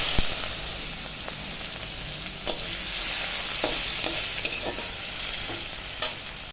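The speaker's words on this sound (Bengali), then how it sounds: "পেঁয়াজটা ভাজা হয়ে গেছে" Steady sizzling of chopped onions frying in a pan with cumin, cloves, cinnamon and cardamom, with occasional scraping stirs clicking through the hiss; close and continuous, no voices.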